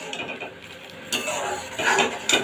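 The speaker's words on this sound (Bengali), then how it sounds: "দিয়ে ভালোভাবে চিনিটাকে মিশিয়ে দেবো" A spoon stirring sugar into raw mango chutney in a pot, short metallic scrapes and clinks against the pot over a low background hiss, close and fairly quiet with no talking.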